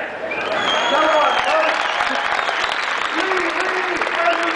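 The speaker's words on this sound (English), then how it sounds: "I want a huge round of applause, not for me, but for the people without whom I couldn't be where I am today" A crowd at Covent Garden Market claps in a sustained, loud round of applause, with a few cheers and whistles rising above the steady patter.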